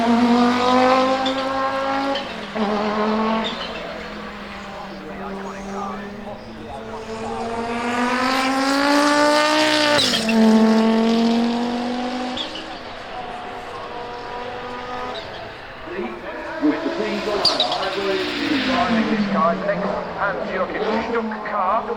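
A 1989 Audi 90 Quattro IMSA GTO race car with a turbocharged five-cylinder engine, loud and close, revving up and down in rising and falling sweeps with sharp throttle blips, while voices talk over it.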